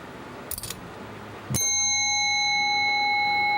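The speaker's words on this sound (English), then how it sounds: "You want to hit this bell, Carl?" A service bell at a record-night booth is struck once, giving a sharp bright ding that rings on with a long sustained tone after a short rustle.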